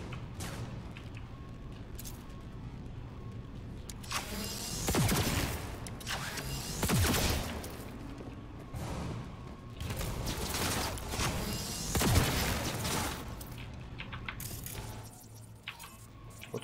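Turret gunfire in the video game Cyberpunk 2077, heard as repeated mechanical bursts and clattering shots that swell and fade over a steady game background, with no talking.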